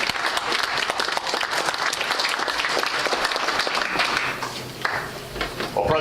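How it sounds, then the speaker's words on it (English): Audience at a Lions Club luncheon meeting gives a warm round of applause, dense and steady clapping close by for several seconds before tapering off, with faint voices underneath toward the end. "give him a great round of applause"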